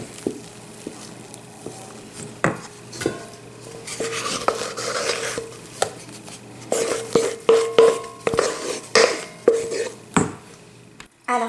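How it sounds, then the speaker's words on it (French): A wooden spatula folds egg whites into a thickened tiramisu mixture, giving soft scraping and stirring strokes against a bowl with scattered light knocks and clinks, close and fairly quiet. "je les rajoute délicatement en mélangeant avec une spatule en bois"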